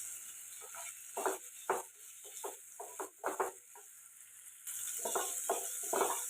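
Baby potatoes coated in masala fry in a pan with a quiet steady sizzle, broken by soft scraping and stirring knocks that come in short uneven bursts.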